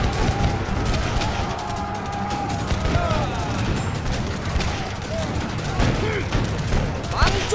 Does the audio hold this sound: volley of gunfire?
yes